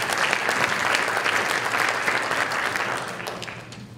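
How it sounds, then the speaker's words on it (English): Applause from an audience honoring a school board of trustees, a dense burst of clapping that holds strong and then gradually thins and fades toward the end. "So please, give them a round of applause."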